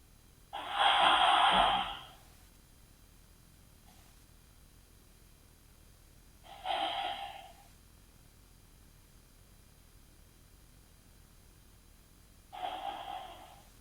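Slow breaths during a yoga stretch held for three breaths, heard as one long airy exhale followed by two shorter, fainter breaths spaced several seconds apart in a quiet room.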